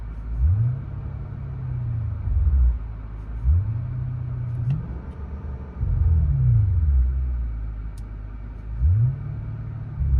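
Deep exhaust rumble from a 2015 Kia K900 5.0L V8 with X-pipe and universal mufflers, valves closed, revving up and settling back several times in a slow rhythm, muffled and heard from inside the car.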